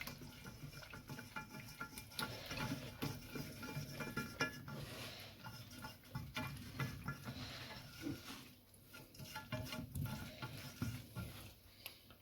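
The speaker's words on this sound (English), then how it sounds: "and we're just going to whisk that in." A whisk works milk into a roux for béchamel sauce, giving a soft, continuous wet swishing and tapping against the pan, quiet and steady throughout with no talking.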